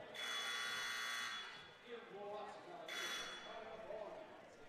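Substitution buzzer at a varsity girls basketball game sounding in two long, bright blasts with a short gap between them, heard over gym crowd noise and commentary.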